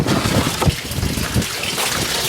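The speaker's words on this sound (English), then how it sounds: "you can see water going in there" Water runs from a pipe into an aquaponics sump tank, a steady close splashing trickle with broadband wash and some wind buffeting on the microphone.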